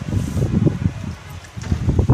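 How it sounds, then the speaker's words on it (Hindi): Strong wind blowing outdoors in cold, rainy weather near flattened sugarcane fields, gusting in uneven rushes with rustling, buffeting the microphone in bursts. "बहुत तेज़ हवा चल रही है।"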